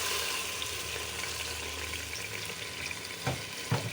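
Meat fries with spices and garlic in a pan, giving a quiet, steady sizzle. Two louder scraping stirs come near the end, and no one speaks.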